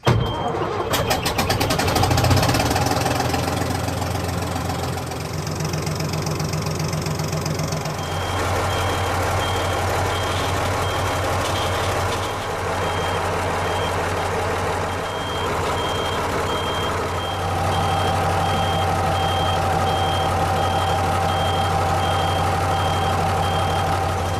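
The Gardner marine diesel engine aboard MV Wearmouth catches after a start problem and settles into a steady, close, rumbling idle, with a thin high tone running alongside and no voices.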